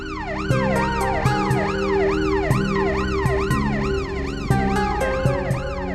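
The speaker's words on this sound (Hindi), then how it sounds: "माँ, ये एम्बुलेंस और ये पुलिस के हॉर्न की आवाज क्यों आ रही है?" Ambulance and police sirens wail together in repeated rising and falling sweeps, loud and close and continuous throughout, with short blips layered over the steady howl.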